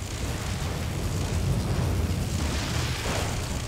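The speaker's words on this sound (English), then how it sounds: "I can survive that big explosion" A big explosion in the video game Wildstar, a broad, sustained low rumbling roar that stays dense and steady without any speech.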